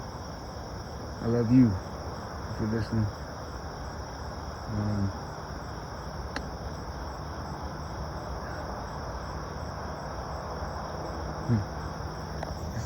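Steady, continuous cricket chirping with frogs fills the background at night, with distant traffic, a voice speaking briefly over it and a few soft rustles.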